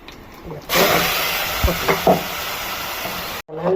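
Cinnamon, cloves, cardamom, garlic and pepper drop into hot oil with a sudden loud sizzle that holds steady, stirred with a few clanks, while a person talks over it.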